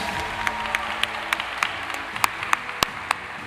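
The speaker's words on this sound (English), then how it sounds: "Let's give a big round of applause for all of our nominees, folks." Scattered, fairly faint applause from an audience greeting award nominees at a scholarship awards ceremony, with distinct individual claps standing out at irregular intervals over a low room hum.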